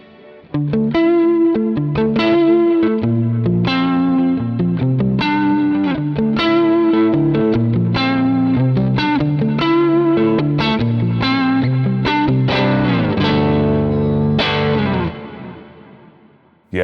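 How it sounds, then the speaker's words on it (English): Electric guitar with single-coil pickups in the neck position, played through a Quad Cortex preset with delay and reverb, rings out in sustained chords and repeating echoes before fading to quiet near the end. "Let's see what it sounds like with a delay on."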